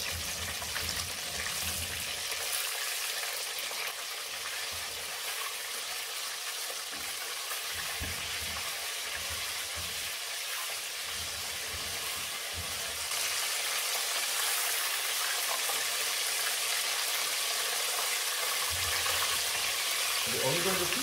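A whole chicken deep-frying in hot oil for Chinese lemon chicken gives a loud, steady crackling sizzle that runs unbroken for about twenty seconds, with no talking.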